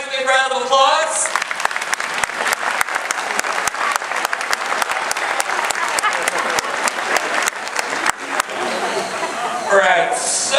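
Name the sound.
applause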